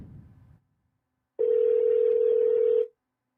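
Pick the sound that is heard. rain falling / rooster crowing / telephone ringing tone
telephone ringing tone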